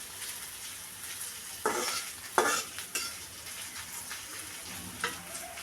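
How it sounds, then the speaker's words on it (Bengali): Onions frying in hot oil in a wok give a steady close sizzle, broken by a few louder scraping stirs. "কড়াইতে তেল গরম করে পেঁয়াজ ভেজে নিচ্ছি।"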